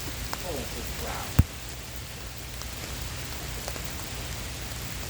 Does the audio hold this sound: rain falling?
yes